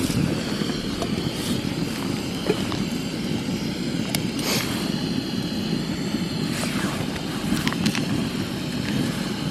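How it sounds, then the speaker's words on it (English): A Jetboil camping stove burner roars steadily at a solo winter wild camp in the Brecon Beacons, a continuous close, loud rushing hiss with no voices over it. "Yes, get the jet boil on."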